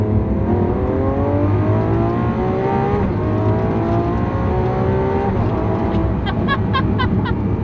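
A Lamborghini Aventador SVJ engine growls loudly and steadily as it pulls away, pitch rising through gears, with a few sharp mechanical clicks near the end.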